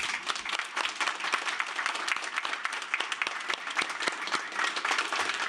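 A round of applause from the audience at a literary reading event, many hands clapping in a dense, even, sustained patter at moderate distance, with no speech over it.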